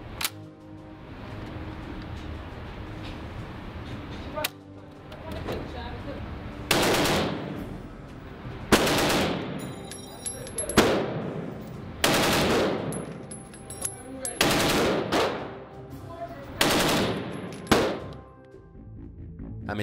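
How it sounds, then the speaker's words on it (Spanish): A Vickers machine gun fires in about six loud, rapid bursts of a couple of seconds each, separated by short pauses, close and dominating the background. "La Vickers tenía una cadencia de tiro de 450 a 600 disparos por minuto"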